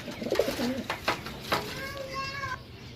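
Pigeons cooing up close in a loft of mixed young and adult birds, a few soft rolling coos among wing shuffles, while people talk over them.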